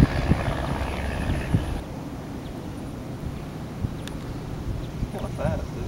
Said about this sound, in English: That was a pretty smooth takeoff.